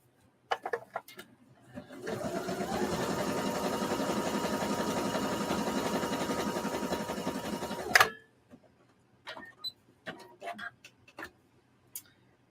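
A sewing machine stitches a line in a steady, loud whirring run of about six seconds that stops with a sharp clunk, followed by light clicks and handling sounds.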